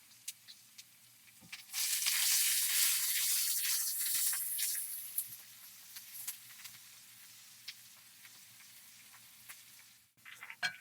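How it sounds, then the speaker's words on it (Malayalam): Finely chopped garlic and ginger hit a hot pan in loud, steady sizzling that fades to a softer frying crackle, with a few light clinks of a utensil near the end. "വെളുത്തുള്ളി ചെറുതായിട്ട് അരിഞ്ഞത്, ഇഞ്ചി പൊടിയായിട്ട് അരിഞ്ഞത്, ഇതൊന്നിട്ട് കൊടുത്ത് ഒന്ന് വഴറ്റിയെടുക്കാം"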